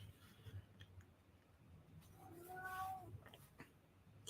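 A cat whines with a rising, drawn-out meow in the middle, heard fairly close over steady background hum and faint scratchy sounds of drawing.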